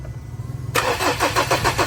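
Ford Everest engine cranking without starting: a steady low hum, then from about three-quarters of a second a loud, rhythmic starter churn with regular pulses that keeps going and never catches.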